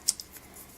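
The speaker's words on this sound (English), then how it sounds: "kind of use my scissors and just roughly chop it up" Scissors roughly chop thin fantasy film for resin crafting, giving two or three quick, crisp snips up close, followed by quiet.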